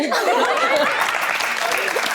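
A studio audience claps together in dense, loud applause throughout the brief moment, with a little laughter mixed in on a TV talk show.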